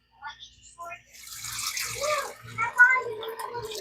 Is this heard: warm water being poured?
yes